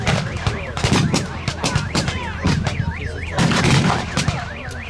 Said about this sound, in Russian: Венгерская самоходка делает выстрел в сторону расчета пулеметного «Максим».